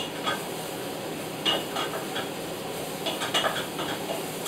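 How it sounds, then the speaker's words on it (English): Spices and green banana frying in a pan for a curry, a steady close sizzle with intermittent scraping stir clatters, no voices. "Just give it a nice fry without burning anything"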